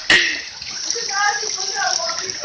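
Rainwater flooding an open outdoor area, a steady, close rushing of running water that holds throughout, with a voice talking over it.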